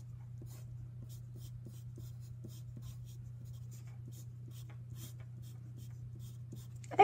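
Capital letters I, L and E are handwritten in a quiet room: faint, steady scratching strokes of a pen on paper over a low constant hum, ending with a louder knock.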